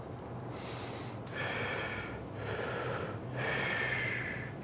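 Breathing inside a respirator during a fit test: close, hissing inhales and exhales in a slow repeating rhythm, with three strong breath surges over a steady airy background.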